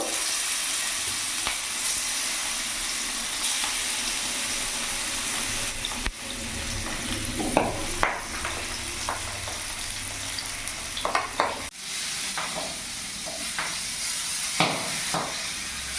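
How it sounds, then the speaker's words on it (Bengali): Pieces of boal fish frying in hot oil in a pan for Bengali kalia, a steady crackling sizzle with sharp spattering pops and a few utensil knocks, no voices. "তেল গরম হয়ে গেছে, এক এক করে মাছগুলো আমি দিয়ে দেবো"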